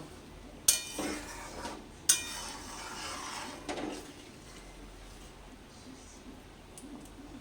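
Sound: mixing fried cauliflower in a pot for pulao

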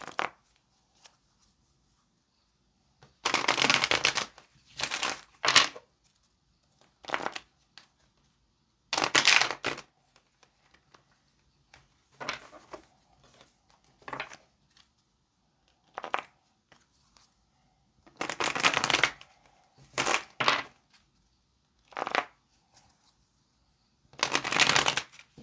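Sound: shuffling tarot cards

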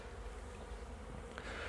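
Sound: honey bees buzzing at a beehive

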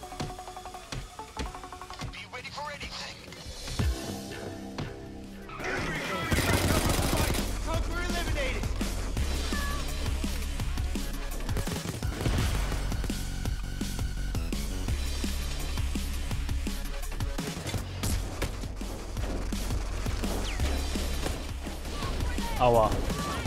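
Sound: gunfire in the video game Payday 2

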